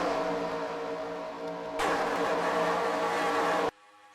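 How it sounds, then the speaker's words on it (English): Race cars in a superspeedway racing video game roar past in a dense pack, a loud steady engine drone that jumps in intensity midway and then cuts off abruptly near the end. "Cars coming at you in that view there, and did Schwartz just lead that lap?"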